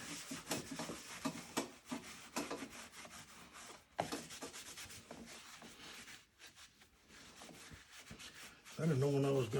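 A cotton cloth rubbing conditioner into a leather saddle, giving close, continuous scrubbing and swishing strokes in an uneven rhythm, with a brief voice at the end.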